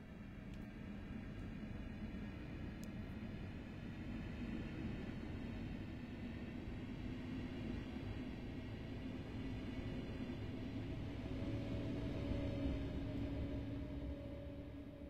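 A simulated DB ET 445 Twindexx regional double-deck train pulls away in Train Simulator 2018. It makes a low, steady, faint rumble, and a soft motor whine rises slowly toward the end. No one talks.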